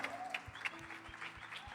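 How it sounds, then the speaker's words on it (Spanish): A congregation at a Sunday church service applauds the two participants with faint scattered clapping, while low rhythmic thumps and a sustained tone sound underneath. "vamos a darle un fuerte aplauso a los dos valientes de esta noche"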